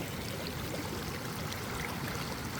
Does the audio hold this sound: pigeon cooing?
no